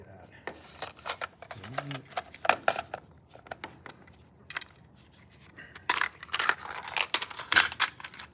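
Scissors snipping brain membrane during a dissection, a series of short crisp cuts and clicks spread through the clip, close and fairly quiet.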